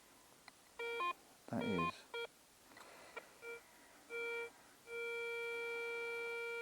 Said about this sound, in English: I'll grab the detector again